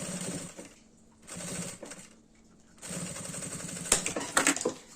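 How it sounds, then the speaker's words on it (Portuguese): Sewing machine running in bursts as it stitches bias binding onto a fabric pouch, a rapid mechanical chatter in three runs separated by short pauses, ending with a few clicks and knocks. "Coloca o viés em cima e vamos costurar."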